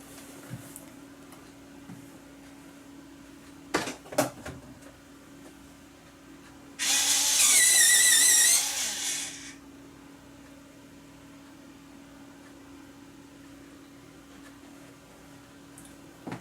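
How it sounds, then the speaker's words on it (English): A noisy pencil sharpener grinds a pencil in one loud, harsh burst of about three seconds, preceded by a couple of faint taps in an otherwise quiet room. "that was a noisy sharpener"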